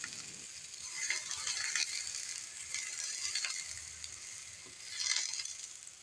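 Metal bikang cake mould heating on a stovetop before it is fully hot, giving faint, irregular crackling and ticking sizzles that swell briefly in soft bursts.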